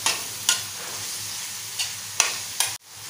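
Prawn masala stirred on a tava, a soft background sizzle broken by several sharp scraping strokes of a spatula, close by, ending abruptly.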